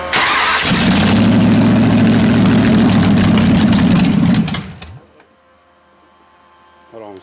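A Turbo Nova race car engine cranks, fires up and roars loudly at a high idle for several seconds, then cuts off abruptly, leaving near silence before a brief cranking sound returns at the end.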